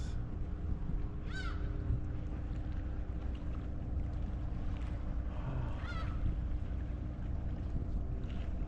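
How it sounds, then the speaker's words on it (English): Seagulls with black tail feathers give two short harsh calls over the steady drone of a boat engine on the water near Incheon, Korea, the second call a little louder than the first. "Look at these seagulls with the black tail feathers."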